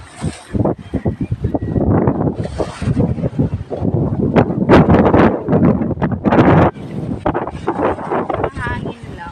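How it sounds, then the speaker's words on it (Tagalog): Gusty seaside wind on an island buffets the microphone in loud rumbling bursts while a person talks over it. "Hangin lang."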